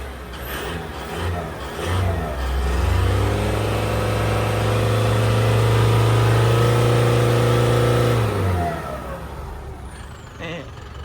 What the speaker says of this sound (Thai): เดี๋ยวเรามาลอง เหยียบคันเร่งดูหน่อย